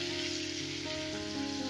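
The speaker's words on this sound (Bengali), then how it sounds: "এবারে ডালের ওপর দিয়ে আমি তড়কাটা দিয়ে দিচ্ছি।" Hot tadka tempered with hing, poured over dal, sizzles in a short, steady crackling hiss like light rain, with a faint tonal hum underneath.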